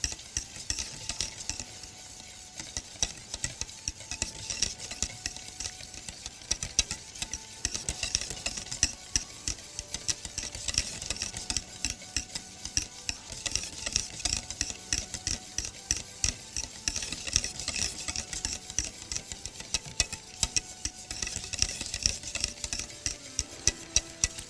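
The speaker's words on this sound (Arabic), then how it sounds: "النشا ونفضل نقلب لحد ما نحس ان هي" A spoon scrapes steadily around a pot of thickening starch mixture for a dessert filling, making quick, regular rhythmic strokes with a light bubbling underneath, close and fairly quiet, with no talk.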